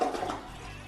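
An American Standard toilet refills with water after being checked for leaks, a steady rushing and hissing flow that stays loud throughout the short stretch.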